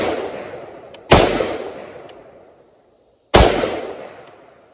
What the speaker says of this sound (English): And let's hit two shots.